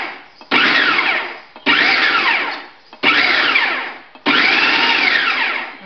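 A kitchen food processor or blender pulses onion for a turkey meatball mixture: four loud motor bursts, each about a second long, whirring up sharply with brief pauses between them, close and alone.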